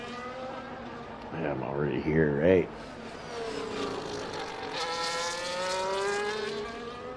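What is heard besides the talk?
race car driving a hot lap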